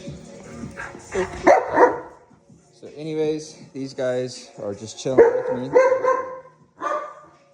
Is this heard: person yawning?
no